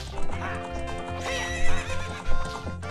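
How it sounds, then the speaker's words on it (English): A horse in the video game The Legend of Zelda: Ocarina of Time Master Quest whinnies loudly several times over clip-clopping hooves and steady game music. "This is my horse."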